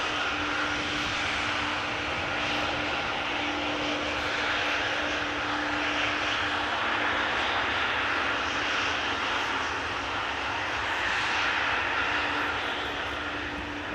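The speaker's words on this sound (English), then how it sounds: "And Speedbird to London Heathrow, just taking to the sky in the distance." A British Airways jet climbs away from Amsterdam Schiphol toward London Heathrow, a steady, distant broadband engine roar with a faint tonal hum, holding level throughout with no voices.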